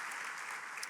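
A church congregation bursts into loud, steady applause of welcome during a worship service, dense even clapping filling the whole moment without pause.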